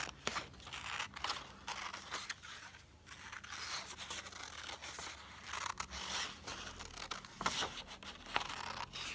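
Scissors snipping through paper for a children's hair craft, close and crisp, a string of quick irregular cuts with brief rustling pauses and no talking.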